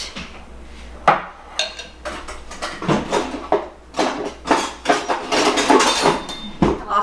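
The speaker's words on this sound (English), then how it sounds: "Offset spatula. So we're going to go ahead and smooth this out." An offset spatula scrapes and taps against a dish while spreading pineapple fluff, giving a run of close, irregular scraping strokes with occasional clinks, no talking.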